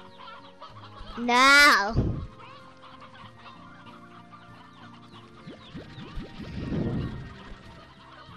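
Chickens cluck in short bursts beneath game music and effects in Slime Rancher 2, with a loud rising squawk or swoosh early on and a person talking briefly.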